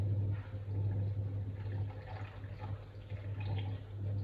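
Warm water pours from a container into a jar of sourdough starter on a scale, a soft, steady splashing trickle lasting a few seconds over a low electrical hum, with no talking.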